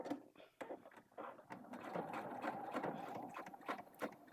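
A sewing machine stitches the inner curve of a fabric bag, a quiet mechanical whirring with irregular ratcheting ticks that starts and stops, close by.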